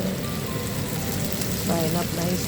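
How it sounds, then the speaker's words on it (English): Butterfish frying Guyanese-style in a pan of oil, a close, continuous hiss and sizzle like rain on a surface, with a brief voice-like sound near the end. "Frying up nicely."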